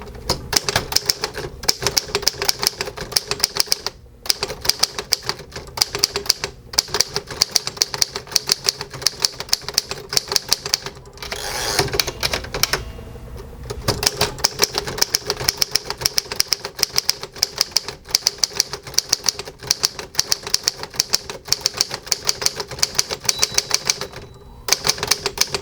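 Keys clatter in quick, uneven bursts on a 1940 Underwood Master manual typewriter, with a brief pause and carriage movement midway, close and crisp with no voices.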